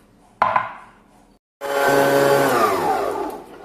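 A food processor kneads dough with water and oil: a short motor burst that spins down, a brief pause, then a longer, steady whirring run that slowly fades toward the end.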